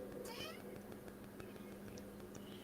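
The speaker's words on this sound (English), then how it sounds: "No, it's when I lean backwards and forwards, it squeaks." Thin, high squeaks from an office chair creaking as it rocks back and forth, faint and whiny, almost like a cat's meow, over a low background hum.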